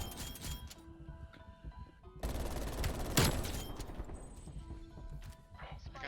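Rapid gunfire in a video game shooter match, a dense rattling burst of automatic shots with a loud sharp crack in the middle, set among quieter game sounds and a nearby voice.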